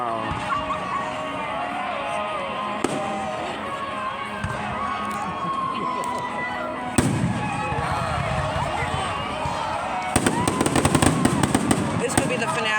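A fireworks show at St. Greg's bursts overhead with rapid crackling and popping, a dense barrage building toward the end, while a crowd murmurs and people chatter nearby.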